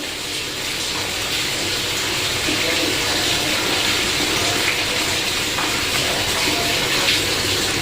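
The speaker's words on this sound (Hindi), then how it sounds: "अब इसमें हम पानी को थोड़ा थोड़ा पानी डालते हुए इसका घोल बनाएंगे" Water pours steadily and continuously into pakora batter up close, a constant splashing rush lasting several seconds.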